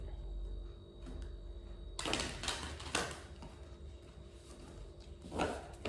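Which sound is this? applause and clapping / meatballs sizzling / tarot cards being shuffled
tarot cards being shuffled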